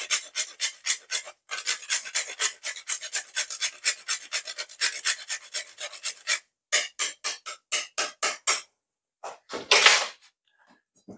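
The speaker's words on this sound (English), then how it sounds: "gonna grate some nutmeg in this" Whole nutmeg rasped against a grater for carrot cake batter: quick rhythmic scraping strokes in steady bursts, close and crisp, with short pauses between runs and no talking.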